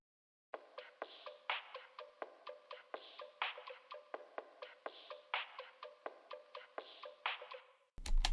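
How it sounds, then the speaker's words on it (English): A crisp percussion loop of clicky hits and snappy knocks plays in a quick, swung rhythm, fairly quiet, ending in a sudden loud burst. "I found me a dope percussion loop"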